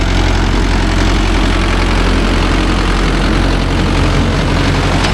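A Mahindra Yuvo Tech Plus 585 4WD shuttle tractor fitted with a 42-blade rotavator runs close by, its engine giving a loud, steady, unbroken drone with no voices over it.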